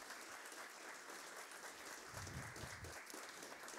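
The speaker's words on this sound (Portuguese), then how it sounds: "Podemos aplaudir, fique à vontade." An audience applauds at the opening of an event after an executive director of Inova Unicamp, the innovation agency, is introduced: steady, dense clapping throughout, moderately faint, swelling slightly near the end, with no talk.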